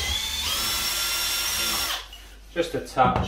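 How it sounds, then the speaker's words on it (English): A power drill fitted with a 7mm masonry bit bores through a wooden batten, giving a loud, steady whine for about two seconds before it stops and a person speaks briefly. "So we'll just run this 7mm masonry bit through here,"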